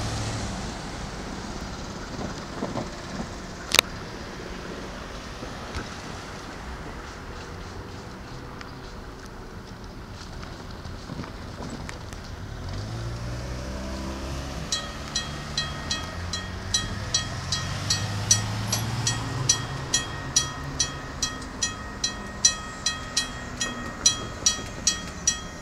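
CSX and Norfolk Southern freight trains run northbound side by side in Marion, Ohio, a steady low rumble building over time, with a sharp horn-like blast early and rhythmic clicking wheel beats growing louder toward the end.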